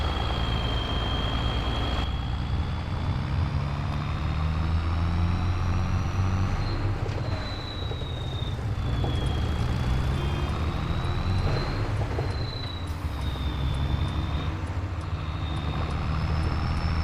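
A tractor engine in Farming Simulator 22 drones steadily throughout, a constant loud rumble with a wavering whine laid over it and no speech.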